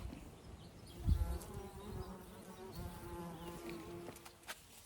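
Bees buzz close by around flowers on a flower farm, a continuous droning hum that wavers as insects move, with a soft low thump near the start and no talking.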